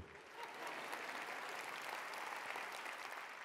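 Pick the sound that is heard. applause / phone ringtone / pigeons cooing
applause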